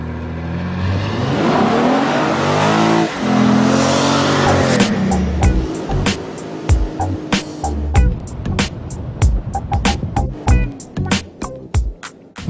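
A 300-horsepower V6 in a 2011 Acura MDX seven-passenger SUV revs and accelerates hard from inside the cabin, a rising engine drone followed by sharp, repeated clicks and knocks over a rougher tail.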